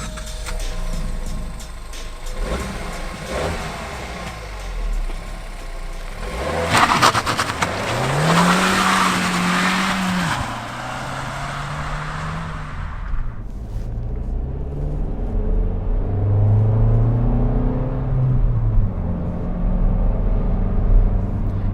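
Suzuki Swift Sport Hybrid 2020 warm hatch driving, engine rising in pitch through gears with audible upshifts, steady road and engine noise close up, no talking.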